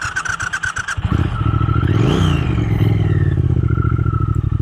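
A 2022 Triumph Thruxton RS motorcycle engine starts, settles into a lumpy idle, then is revved up hard and eased back down, loud and close with nobody talking.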